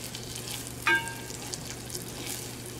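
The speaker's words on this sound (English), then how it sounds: "So the sugar is dissolving and incorporating with the butter." Butter and brown sugar bubble softly in a pan for a caramel cream sauce, a faint, steady sizzle with one brief clink of a utensil against the pan while stirring.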